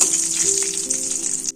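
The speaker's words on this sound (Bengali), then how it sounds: "দিয়ে দিচ্ছি তেজপাতা, শুকনো লঙ্কা আর গোটা গরম মশলা ফোড়ন।" Bay leaf, dried chilli and whole garam masala crackle and sizzle in hot oil, a close, continuous tempering hiss with no talk.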